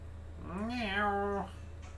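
A pet cat gives a single drawn-out meow, close and clear, rising then falling over about a second against a quiet background hum.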